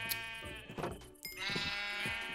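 Repeated sheep bleats from Minecraft, several overlapping calls in quick succession, close and fairly loud, with no talking over them.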